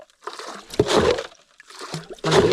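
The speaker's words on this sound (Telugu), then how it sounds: "కొంచెం నీళ్ళు ఉన్నాయి లోపల, నీళ్ళన్నీ ఎత్తిపోద్దాం" Water being scooped and tossed out of a small fishing boat on the Krishna River, a few separate splashy sloshes with pauses between them, close by.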